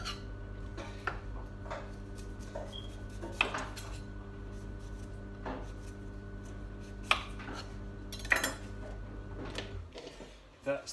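A knife scrapes and cuts around a celeriac root to peel it in a kitchen, giving intermittent scraping strokes and sharp knocks on a board, with some clatter and a voice speaking.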